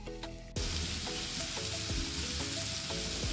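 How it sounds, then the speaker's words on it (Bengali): Potato and pointed gourd pieces fry in a pan with a steady, dense sizzle close by, marked by several light spatula scrapes and clinks at regular intervals. "তো আলু পটলগুলো মোটামুটি ভাজা হয়ে গিয়েছে।"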